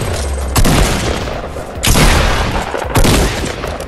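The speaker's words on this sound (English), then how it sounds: "he got a minigun as well" Heavy Fortnite minigun gunfire in sustained loud bursts, three dense volleys each starting with a sharp boom and rolling on without pause, close and alone.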